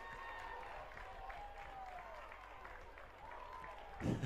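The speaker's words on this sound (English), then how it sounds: "you hear the roar from the crowd" The crowd at the 2019 Florida 5A boys high school soccer state final between Lake Mary and Felix Varela gives a steady, distant roar under a commentator's talk, swelling louder at the very end.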